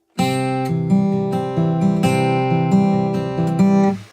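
Fingerstyle acoustic guitar plays a steady, brisk picking pattern, with pinched bass and treble notes followed by rolling single notes, played alone and close.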